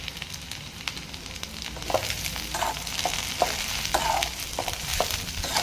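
Pirandai (adamant creeper) is sautéed in a pan, giving a soft, low sizzle with a few light scrapes and stirring taps spread through the clip, all fairly quiet.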